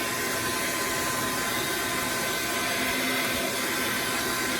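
A hair dryer blows continuously at close range while drying a hand-tied badger shaving brush knot, a loud, even rushing whir with no pauses or talk.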